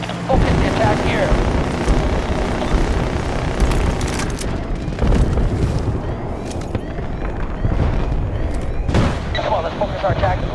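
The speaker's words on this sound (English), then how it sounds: "Alright, yeah, we got that explosive charge planted." Heavy booming battle noise from Battlefield Bad Company 2 as a planted explosive charge goes off, dense low rumbling blasts and crashes filling the whole stretch with a loud swell near the end.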